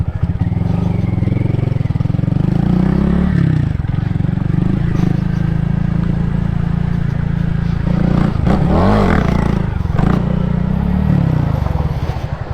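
A Honda Grom motorcycle engine revs hard and steadily, its loud, rising pitch sweeping up and down through repeated throttle blips, close to the listener for the whole stretch.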